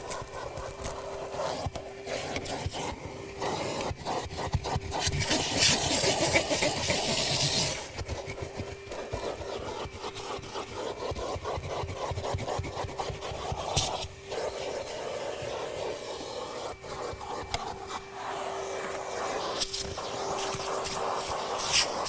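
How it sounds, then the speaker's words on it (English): Vacuum cleaner working over car carpet beneath the driver's seat, a continuous whining suction drone broken by repeated scraping and bumping of the nozzle against carpet and seat rails, loud and close throughout. "So we're going to start vacuuming, work our way, pull the seat forward"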